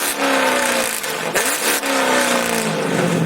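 A 5.7L HEMI with a catless exhaust revs hard, a loud raspy engine roar rising and falling through several throttle blips with a brief dip in the middle, close and continuous.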